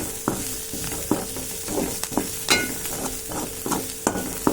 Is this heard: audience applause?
no